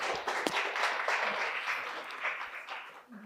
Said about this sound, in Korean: 김현 대표님께 한 번 더 큰 박수 부탁드리겠습니다